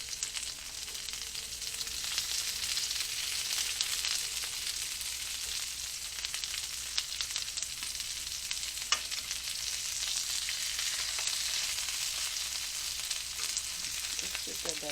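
Birria tacos fry in a pan with a loud, steady, close sizzle and crackle that runs unbroken for the whole stretch, with occasional small pops and stirring scrapes.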